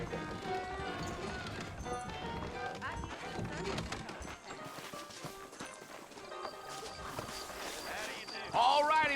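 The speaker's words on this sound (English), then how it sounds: "I got the horses saddled up and ready out front." Horse hooves clip-clop in Red Dead Redemption on PS3 as saddled horses set off through a Western town, rhythmic hoofbeats under voices and game sound.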